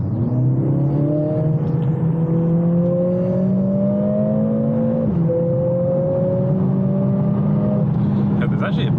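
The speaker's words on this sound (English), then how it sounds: "we're going to go straight into race mode as soon as we've got past this roundabout" A Mercedes CLA45s AMG in race mode drones loudly from inside the cabin at night, its engine note climbing under acceleration with a brief shift midway.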